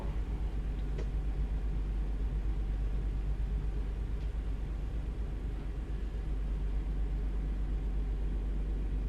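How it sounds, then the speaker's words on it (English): A 600-horsepower truck engine in American Truck Simulator runs with a steady, low, smooth drone that holds an even level throughout, with no talk. "Nice smooth engine this car."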